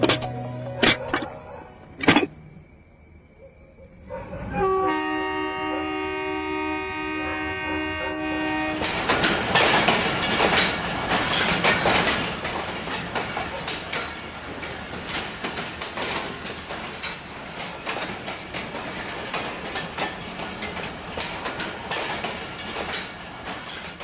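A train on a railway line sounds sharp horn blasts, then a steady two-tone horn, followed by a loud, continuous rumble and rhythmic clatter of wagons passing close by.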